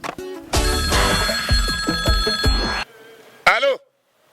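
An old-style telephone bell rings in a loud, close burst of rapid repeated trills for a couple of seconds, then stops, followed by a short electronic tone.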